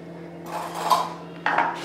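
A spoon stirs a spiced mixture of cumin, coriander powder, green chilli and sugar in a bowl in a home kitchen, giving a few soft scraping clinks at close range with no talking.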